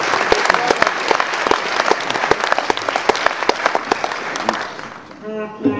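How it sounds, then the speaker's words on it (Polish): A Galicja Blues Festival 2009 concert crowd applauds loudly and continuously, with sharp individual claps standing out. Near the end the clapping thins and a brief tonal sound enters. "proszę o wielkie brawa dla niego"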